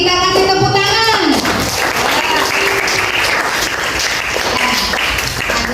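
A classroom of students claps together after a presentation, dense and loud applause that continues steadily, with a voice speaking briefly at the start before the clapping takes over.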